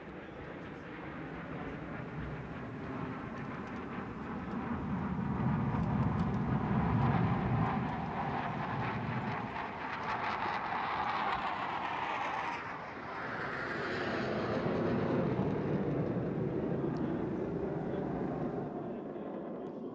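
Fighter jets of the Phantoms aerobatic team fly a display at an open-air military demonstration, a broad, loud roar swelling and receding as they pass overhead, with a second surge later.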